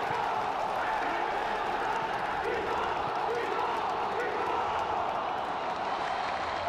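A stadium crowd in a football video game roars and chants continuously, a dense steady wall of fan noise that stays loud throughout the clip.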